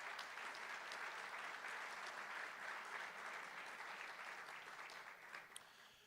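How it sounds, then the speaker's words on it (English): Applause from a seated audience honouring special guests at a North Carolina Superintendent of the Year award ceremony, a steady dense clapping that holds throughout and tapers slightly at the end, with no voices over it. "Let's give all of our special guests a round of applause."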